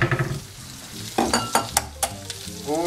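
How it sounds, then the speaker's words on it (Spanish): Two eggs beaten quickly in a small glass next to a pan heating on the stove, a run of sharp rhythmic clicks and taps over a constant background sizzle. "para batir los huevos rapidito"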